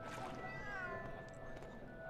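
A cat meowing, a drawn-out wavering cry that bends in pitch, fairly faint and set against a low background hum, with someone talking over it.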